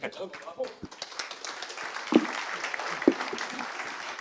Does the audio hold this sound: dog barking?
no